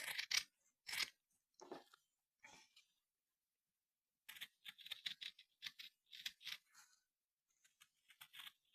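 Scissors snipping through fabric for a stitched birdhouse project, a run of crisp close cuts in irregular bursts separated by pauses, with no talking.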